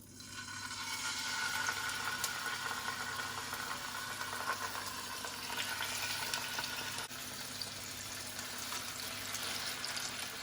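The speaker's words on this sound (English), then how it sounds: "And that is the sizzle that you want to hear." Chicken pieces laid skin side down in two tablespoons of hot cooking oil give a steady, close sizzle and crackle that keeps going without a break for about ten seconds.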